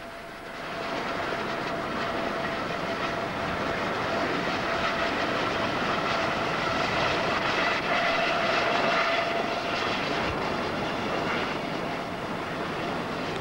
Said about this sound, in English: As we fly in our chopper over the North Sea